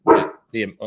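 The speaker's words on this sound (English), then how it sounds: "sorry, that's my dog" A dog barks close and loud, one strong bark followed by two shorter ones in quick succession.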